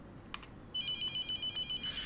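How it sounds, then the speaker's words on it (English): A phone rings in the horror game The Mortuary Assistant, a quiet room tone giving way to a steady electronic ring pulsing in regular bursts, clear and moderately close. "Not answering the phone."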